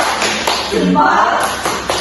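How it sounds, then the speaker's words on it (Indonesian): A classroom group of children does a short patterned salute clap, a few quick claps and taps close by, with voices underneath. "Kami tepuk salut untuk kelompok 1."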